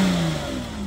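Inline six-cylinder car engine, already warm, gives a quick rev that rises and settles, loud and close with a steady mechanical drone.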